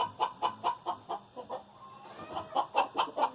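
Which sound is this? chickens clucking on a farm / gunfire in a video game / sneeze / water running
chickens clucking on a farm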